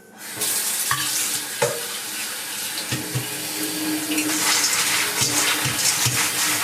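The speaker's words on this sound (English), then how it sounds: "I find that I rinse these things in my sink all the time" Running tap water pours steadily into a sink while an anthurium plant's roots are rinsed, with close splashing and occasional knocks and handling sounds throughout, no one speaking.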